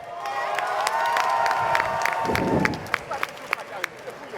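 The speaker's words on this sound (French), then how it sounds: "Un tonnerre d'applaudissements pour les deux participants, s'il vous plaît." An audience at Japan Expo applauds and cheers for two participants on a sports stage, a crowd roar with clapping and shouts that fades into scattered sharp claps and a talking voice.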